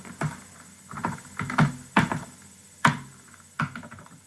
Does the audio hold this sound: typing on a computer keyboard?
yes